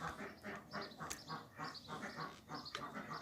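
Farm ducks quack in the morning at Wondering Drake Farm, a busy group giving repeated, overlapping calls in quick rhythm at moderate distance.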